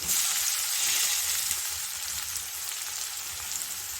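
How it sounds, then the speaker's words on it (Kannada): Finely chopped medium onion frying in hot oil for masala aloo bonda, a steady close sizzle that continues evenly throughout with no voices. "ಆಮೇಲೆ ಒಂದು ಮೀಡಿಯಮ್ ಸೈಜಷ್ಟು ಈರುಳ್ಳಿನ ಸಣ್ಣ ಸಣ್ಣದಾಗಿ ಕಟ್ ಮಾಡಿ ಇಟ್ಕೊಂಡಿದ್ರೆ ಅದನ್ನು ಸೇರಿಸ್ಕೊಳ್ತಾ ಇದ್ದೀನಿ"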